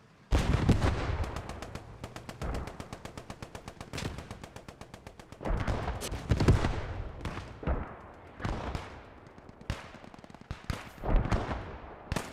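Artillery and gunfire in the video game Post Scriptum: rapid machine-gun bursts rattle between heavy booming impacts, loud and layered, with several shots overlapping in dense volleys and short lulls between them.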